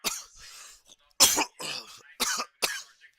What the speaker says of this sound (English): Rough cough today.